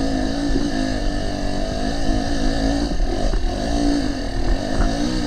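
A motorcycle engine on a peninsula road run gives a loud, steady, close drone with a slight rise and fall in pitch throughout, and no one talking.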